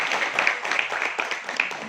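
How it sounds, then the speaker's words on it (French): An audience claps for the faculty dean at the inauguration of a cultural integration and exchange club, a brief burst of dense, even applause. "Une fois encore, applaudissez pour M."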